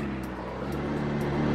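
A Koenigsegg drives through a small town in snowy conditions, its engine a steady low hum heard from inside the car, even and moderately quiet for the whole moment.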